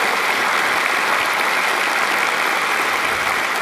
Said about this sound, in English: I actually think you deserve a larger round of applause than that.